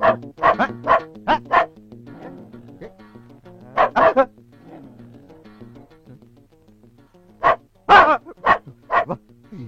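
A trained dog barks loudly and close by in three bursts of rapid, sharp barks separated by brief quieter pauses with faint whimpering.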